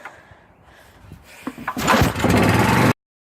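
A Robin Subaru small engine gets a pull-start, the cord rasping briefly before the motor catches and runs loud and close with a rough, steady drone, then stops abruptly.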